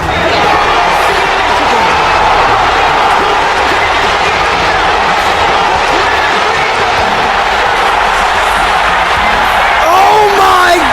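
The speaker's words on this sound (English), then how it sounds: "You hear the eruption from the crowd." A wrestling crowd roars loudly and continuously, a dense wall of cheering and shouting that stays near and heavy throughout.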